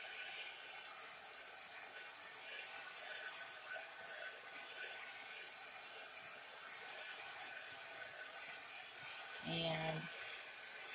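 Hair dryer blowing on a freshly painted background page, a steady close whooshing hiss running the whole time, with a brief low hum near the end.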